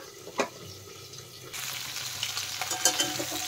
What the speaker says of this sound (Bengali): এদিকে দেখেন আলু আর ফুলকপি কিন্তু ভালো করে ভাজা হয়ে গেছে